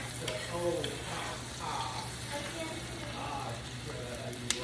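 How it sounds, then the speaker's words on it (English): Onions sauté in bacon grease and butter, giving a soft, even sizzle at low level over a faint steady hum, with no clear speech. "just want to saute the onions inside of the bacon grease and"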